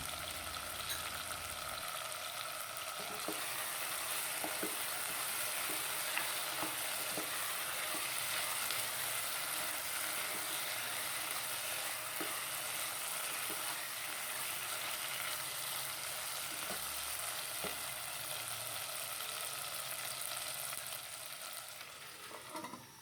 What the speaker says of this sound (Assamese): মাংসখিনি ভাজা হৈছে